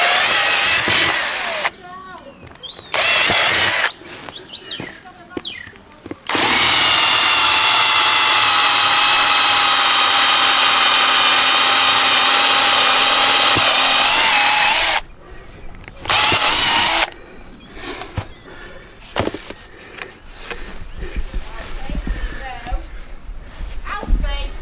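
A power drill runs close and loud while driving screws into a wooden fence post. It gives a few short bursts, then one long sustained run of about nine seconds, then more short bursts, with a person talking in between.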